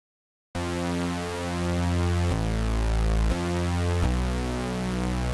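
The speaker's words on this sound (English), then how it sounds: "it has this hollow sound to it that's kind of reminiscent of a pulse width modulated square waveform" A retro synth patch built in Serum with a hollow, pulse-width-modulated square-wave character, playing a sustained chord of several loud held notes that changes pitch a few times, alone after a short silence.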